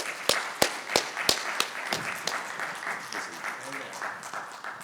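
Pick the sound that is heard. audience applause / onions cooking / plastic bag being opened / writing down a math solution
audience applause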